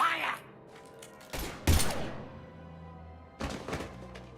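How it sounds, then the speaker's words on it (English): Gunfire in the video game Mass Effect: several sharp bursts of shots and heavy thuds fire off in quick clusters, loud and close, separated by quieter stretches with some low background hum. "Now open fire!"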